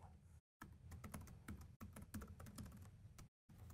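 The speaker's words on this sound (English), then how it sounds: "This is why we don't like to do live typing on stage" Fast clicking keystrokes on a computer keyboard at a live tech talk, close and crisp, in quick bursts broken by short silent gaps.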